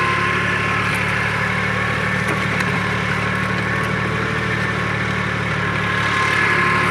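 A Swaraj 630 tractor engine runs steadily in a wet field, a constant low droning rumble with a mid-range hum, close and unbroken, with no talking.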